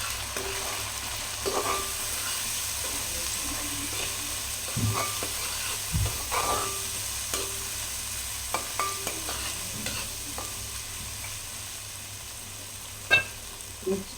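Onion, green chili and ginger-garlic paste fry in a pan, a steady soft sizzle with scattered stirring scrapes and a few sharper clinks of the spoon against the pan.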